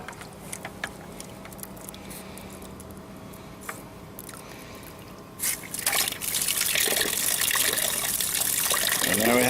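Star San sanitizer drains out of a pressurized beer keg during cleaning, starting with scattered drips and hissy ticks, then bursting into a loud, steady gushing stream of liquid, close by.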